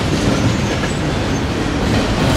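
Loud, continuous rumble and clatter of a train at a railway station, a dense, unbroken roar close by with no voices.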